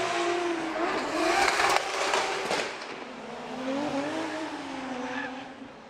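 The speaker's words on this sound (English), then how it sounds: "Adam LZ with his bye run, the Drift HQ BMW" Drift HQ BMW drift car on a Formula Drift championship run, its engine roaring and wavering through transitions with tire squeal, heard at a distance over crowd and track ambience.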